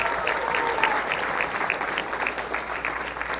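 An audience at a mayoral forum held in a church gives a warm round of applause, a steady, dense patter of many hands at moderate volume throughout, with a faint voice beneath it.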